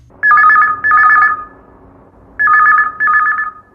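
A telephone rings twice, each ring a pair of loud electronic trills, with silence between the two rings.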